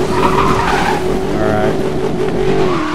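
A car in Need for Speed Most Wanted (2012) skids hard on the emergency brake, with a loud, sustained tire squeal over a steady engine roar that barely lets up for three seconds.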